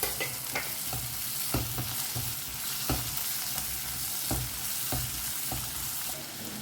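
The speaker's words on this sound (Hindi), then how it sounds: "अच्छे से इसे मिक्स करें" Two chopped tomatoes sizzle in a pan, stirred with a spoon that knocks against the pan in a loose, repeated rhythm over a steady frying hiss.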